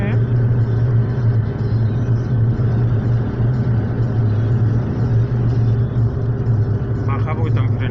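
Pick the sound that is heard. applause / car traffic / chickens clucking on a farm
car traffic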